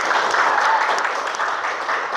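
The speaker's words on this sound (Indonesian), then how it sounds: "kita tepuk tangan dulu untuk teman-teman." Students in a classroom clap for their classmates, a steady, close burst of group applause lasting a couple of seconds.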